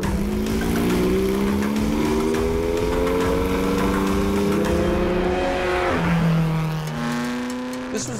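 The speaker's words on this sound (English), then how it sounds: "is a race car." A 1959 Porsche 718 RSK race car engine revs loud and close, pitch climbing through gears, then dropping and rising again, with no voices over it.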